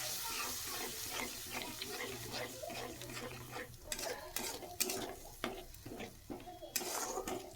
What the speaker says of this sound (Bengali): দিয়ে দেওয়ার পর আবারও ভালো করে নেড়ে নিচ্ছি।